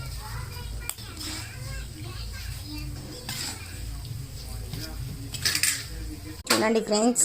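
Poha (flattened rice) is stirred through a fried tempering in a pan. A spatula scrapes and clatters against the metal, busiest toward the end, while a voice talks over it.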